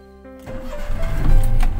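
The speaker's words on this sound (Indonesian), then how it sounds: "posisi netral, hidupkan mesin" A manual car's engine cranks briefly and catches after a quiet moment, then settles into a steady, close idle with a slight rise in revs.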